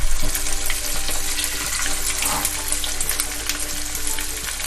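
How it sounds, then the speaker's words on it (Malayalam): Chicken pieces for restaurant-style chilli chicken deep frying in hot oil over medium heat, a loud, close, continuous bubbling sizzle with crackles throughout. "നമുക്കിനി ഓരോന്നായിട്ട് ഇട്ട് കൊടുക്കാം വറുക്കാനായിട്ട്"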